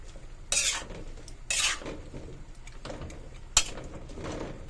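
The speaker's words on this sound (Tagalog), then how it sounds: "Haluin." Adobong kangkong (water spinach) is stirred in a pan, with a few separate bursts of scraping and rustling against the pan over a low background and no talk.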